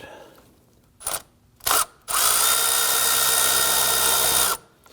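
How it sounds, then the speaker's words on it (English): A power tool with an 8mm socket spins out a bolt at the back of the engine on a 2010-2019 Ford Taurus 3.5L, near the intake VVT solenoid: two short bursts, then one sustained loud whir of about two and a half seconds. "Use our 8mm socket."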